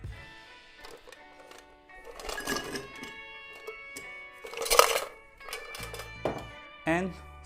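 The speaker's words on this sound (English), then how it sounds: "Take a highball glass, fill it with ice." Ice cubes tumble into a highball glass in a few short clinking, clattering bursts between stretches of speech, with music underneath.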